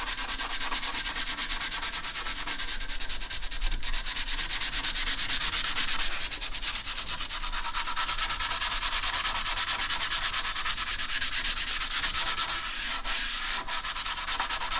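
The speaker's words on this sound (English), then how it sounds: "I can take some sandpaper and smooth that out real quick." Steady, close scratching of 180 grit sandpaper rubbed over a wooden acoustic guitar back brace, continuous brisk strokes for the whole stretch with no talk.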